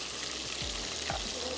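Masala with chilli spices and tomato puree sizzles steadily in a pan, a close, continuous frying hiss with a couple of soft stirring scrapes.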